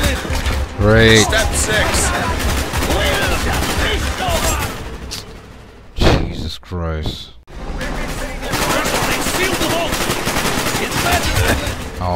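Rapid machine-gun fire and scattered gunshots from Call of Duty: Black Ops on Veteran difficulty rattle almost continuously, loud and close, with a brief lull before firing resumes, while a voice speaks over it.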